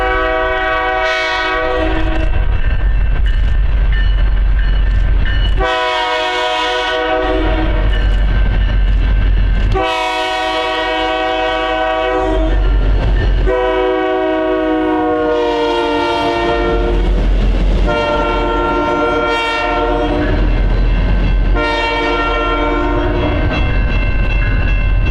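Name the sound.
BNSF light power locomotive move passing, train horn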